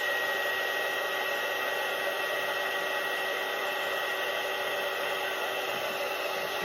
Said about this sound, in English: I forgot to put my heat gun on first to warm it up a little bit